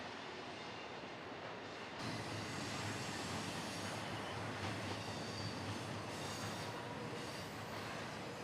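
A train crosses the Tehachapi mountain railroad at a distance, giving a faint, continuous rumble of rolling cars with some wheel squeal. The sound swells slightly after the first couple of seconds and then holds steady, with no talk.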